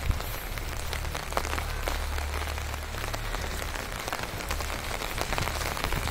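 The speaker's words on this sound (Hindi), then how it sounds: "आज दिन भर इसी तरीके से बारिश रहने की पूरी संभावना।" Heavy rain pours down without a break, a dense, close patter of drops striking surfaces, with occasional louder splats.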